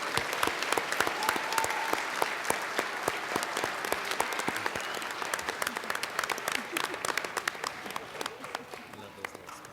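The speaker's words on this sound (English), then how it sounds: "Please join me in a round of applause for our kindergarten students" An audience at a school board meeting applauds kindergarten award winners, sustained dense clapping from a sizable crowd with sharp individual claps standing out and some voices mixed underneath.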